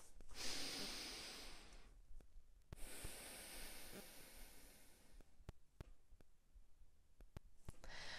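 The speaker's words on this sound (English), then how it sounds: "Breathe in and out," Slow breathing in and out as a relaxation exercise, soft airy inhales and exhales close to the microphone, with a long breath early on, quieter breaths later and a few faint clicks.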